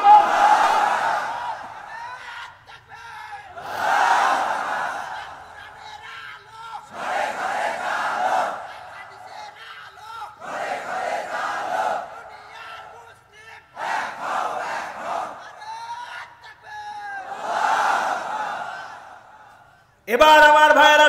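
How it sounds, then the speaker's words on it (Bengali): A large crowd at a Bangla Islamic sermon gathering shouts takbir in loud, repeated bursts of roughly two seconds each, about seven rounds separated by short pauses, with a single voice breaking in at the very end. "আছে জোরে তাকবীর দিয়ে বলেন আল্লাহু আকবার"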